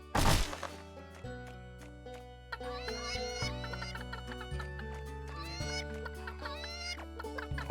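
Clucking of a chicken in the PC video game Secrets of Grindea, set over a steady game music loop with bright melodic notes and a sharp sound effect at the start.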